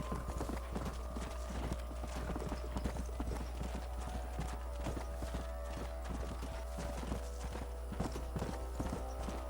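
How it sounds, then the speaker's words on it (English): A herd of horses is driven along in Red Dead Redemption, a dense continuous clatter of many hooves clip-clopping at a trot, fairly close, over a low steady hum, with a brief whinny and faint voices now and then. "horses don't always, unlike the cattle, don't always go the way you want to, and they're a lot harder to herd"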